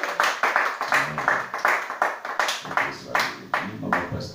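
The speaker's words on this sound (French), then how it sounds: "On acclame le Seigneur Jésus-Christ." A church congregation claps in unison to acclaim Jesus Christ, a steady, fairly loud run of rhythmic handclaps about two per second that carries on throughout with no talking.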